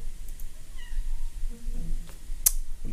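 A house cat meows a few times in a room, faint brief cries over low background noise, with no talking.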